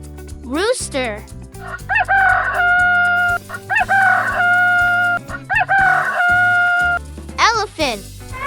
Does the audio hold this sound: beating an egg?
no